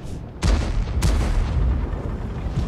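In World of Tanks, a slow-reloading tank gun fires twice in quick succession. Each shot is a heavy, close boom that rolls out under a continuous low rumble of engine and battle noise.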